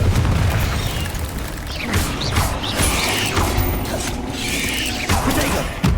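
A Confringo blasting spell in the Hogwarts Legacy video game lets out booming, crackling blasts with mechanical creaks and rattles, several bursts overlapping in a dense, close stretch of combat noise.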